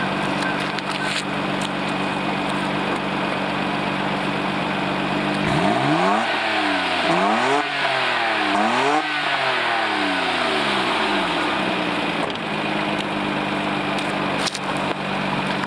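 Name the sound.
stock car exhaust revving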